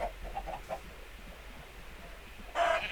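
Chicken clucking in the video game Minecraft, a few short soft clucks near the start followed by a brighter, louder squawk near the end, over a low steady background hum.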